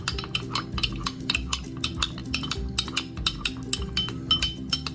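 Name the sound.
stirring rose water into a milk dessert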